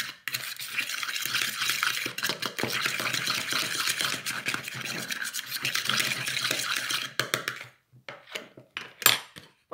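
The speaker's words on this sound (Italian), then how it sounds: "mescoliamo, poi mettiamo del parmigiano grattugiato, mescoliamo ancora." A spoon stirs a filling with grated parmesan in a bowl, a steady scraping and clinking for most of the clip, then a few separate knocks near the end; no talking.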